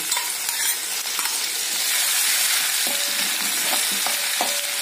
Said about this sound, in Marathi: तेल गरम झालंय, आता आपण लसूण, आले आणि मिरची हे टाकून घेऊ।